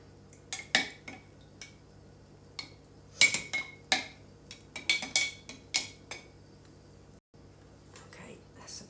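A spoon stirs natural dye in a pot with irregular metallic clinks and scrapes against the sides, close and fairly quiet, in bursts separated by short pauses.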